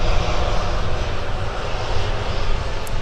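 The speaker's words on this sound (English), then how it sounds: "And Sun Country Flight 261 now taking off on 12 right, headed for Chicago O'Hare." A Sun Country airliner takes off on runway 12 right at Minneapolis–St. Paul airport, its engines a loud, continuous broadband roar that holds steady throughout with no voices.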